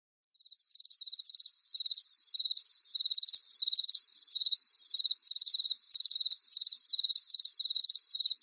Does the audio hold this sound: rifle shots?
no